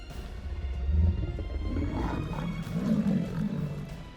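A lion fighting a crocodile lets out a deep, loud, sustained roar that swells and growls over several seconds, close and raw with no voices.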